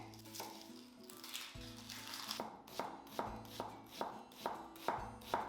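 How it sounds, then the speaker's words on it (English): A large onion being chopped on a board: a quiet run of crisp, evenly spaced knife strikes picking up a steady rhythm, close and alone with faint cooking sizzle behind. "Chop 1 large onion,"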